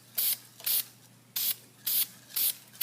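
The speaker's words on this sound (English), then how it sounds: "get your paint, and then just spray it. Gonna do a quick burst." Short bursts of spray paint hiss onto a Gunpla plastic model part, five distinct sprays of roughly a third to half a second each with brief pauses between, close and fairly loud over a faint steady hum.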